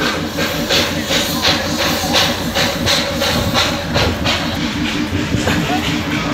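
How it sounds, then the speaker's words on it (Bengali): Steam hisses loudly and continuously from the steam locomotive of the Darjeeling toy train at a station, a broad rushing roar with rhythmic chuffing pulses, close and dominant throughout. "স্টিমে ছাড়া আওয়াজটা দেখো"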